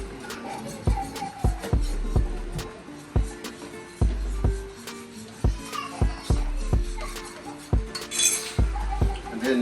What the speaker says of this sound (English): Whisk it all in.